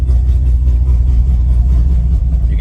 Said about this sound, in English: So right now it's back to the way the exhaust sounds, right?